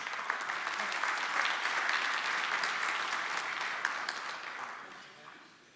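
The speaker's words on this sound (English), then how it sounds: "I don't actually need a hand clap, but thank you anyway" A crowd at an energy summit applauds with broad, dense hand clapping that holds steady and then tapers off toward the end, with faint voices underneath.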